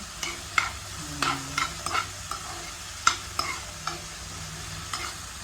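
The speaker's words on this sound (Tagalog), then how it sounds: "Halo-haluin lang natin hanggang mag-water na yung tomato." Tomatoes and sardines sautéing in a pan, a utensil scraping and tapping in irregular strokes over a low, steady sizzle, close and without talk.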